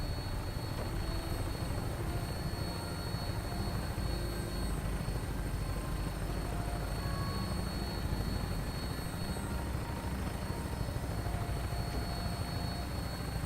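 A Vertibird aircraft in the game Fallout 4 lifts off, a steady, loud droning rotor roar with a dense, continuous rumble that holds level throughout, with no voices.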